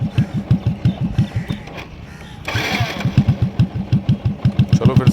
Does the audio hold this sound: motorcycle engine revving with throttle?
yes